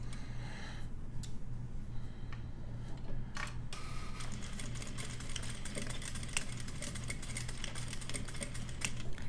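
A sewing machine stitches across zipper teeth, running steadily with a low motor hum and rapid mechanical clicking, punctuated by a few sharper knocks, close and moderately quiet.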